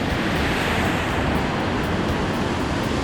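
Large ocean waves break at a surf point break on the Canadian coast, a loud, continuous roar of surf with wind across the microphone and no pauses throughout.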